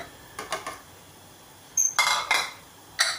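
A metal container set onto a ring inside a heating pan gives a few sharp metallic clinks and clatters, close and fairly loud, with brief quiet gaps between them.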